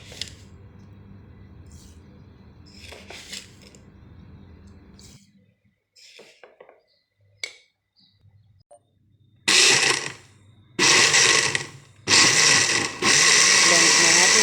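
Electric blender mixing white sugar into blackberry cupcake batter, starting after quiet talk and running in several loud bursts of whirring, each a few seconds long with short pauses between.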